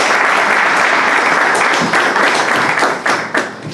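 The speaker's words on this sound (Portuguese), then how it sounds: "Uma salva de palmas" A hall audience gives a sustained round of applause after a talk on public security, crime and human rights: dense, loud clapping that thins into a few scattered claps near the end.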